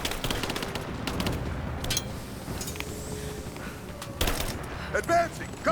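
Shotgun blasts and other gunfire from a combat video game, a dense run of loud bangs and rattling bursts with a sharp louder shot near the end, under a player talking.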